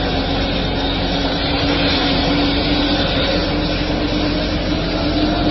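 Flight For Life medical helicopter passing overhead near a hospital in rain and wind, a loud, steady broadband rotor and engine roar that holds constant throughout, heard from close by with no talk.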